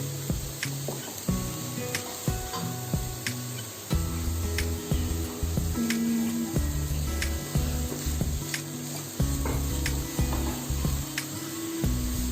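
Momo filling cooking in a pan, a steady hissing sizzle with scraping and knocking as it is stirred, close and continuous with occasional sharp clicks.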